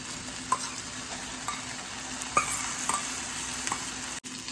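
Chicken is stirred in a pan with no oil alongside onions, giving a steady dry sizzle broken by a few sharp scrapes and clinks of the spoon.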